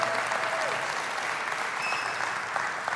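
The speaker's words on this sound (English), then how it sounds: "Let's give our pastors a round of applause." A church congregation applauds together in a dense, steady wash of clapping that holds at an even level from start to finish, with a few faint voices under it.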